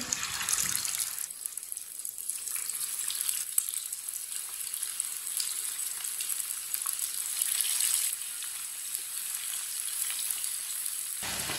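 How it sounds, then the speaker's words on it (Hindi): Chicken pieces frying in hot oil for Hyderabadi chicken biryani, a steady close sizzle and crackle that holds evenly throughout with no talking. "अब इसमें चिकन डाल लेंगे फ्राई के लिए"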